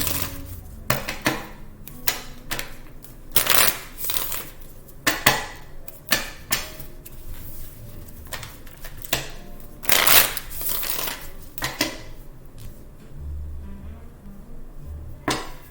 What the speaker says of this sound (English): let me pull a card here for the Aries side